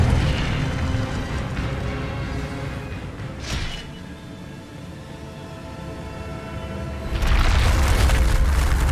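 A fire spell cast in Hogwarts Legacy: a deep, loud rumbling boom with a short whooshing burst midway, then a second heavy surge of low roaring near the end, with no talk.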